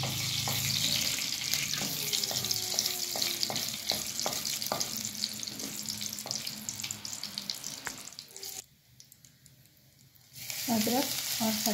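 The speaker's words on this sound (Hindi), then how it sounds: "घी मैंने गरम कर लिया। सबसे पहले हम इसमें जीरा डालेंगे।" Cumin seeds sizzle in hot ghee with a steady crackling hiss and rapid small pops, close and fairly loud, briefly dropping to near quiet before the frying sound returns strongly.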